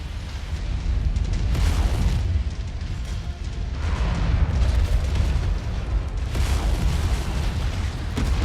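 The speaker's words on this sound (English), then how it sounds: "Ammo explosion detected." Ammunition exploding in the mech combat game Mechwarrior 5: a sustained roar of deep booms and rumbling blasts that swell and overlap for several seconds, loud and dense.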